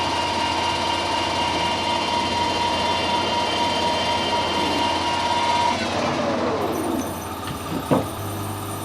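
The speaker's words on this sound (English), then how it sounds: "We'll do the drilling with this on the lathe" A metal lathe drilling with a 6mm drill gives a steady mechanical whine and hum that runs continuously, then pitches down as the machine slows, ending in a brief metallic clunk.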